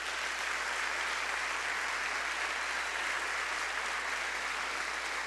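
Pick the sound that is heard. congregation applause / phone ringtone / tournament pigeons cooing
congregation applause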